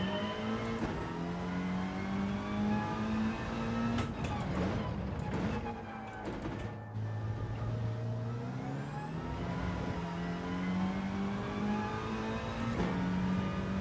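A VW Scirocco Gr.4 race car engine in the racing game Gran Turismo 7 revs and climbs through the gears, dropping and rising again with each shift in a loud, steady drone, with a voice talking over it.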